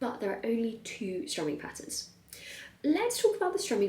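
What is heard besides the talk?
None of the usual background noises is heard.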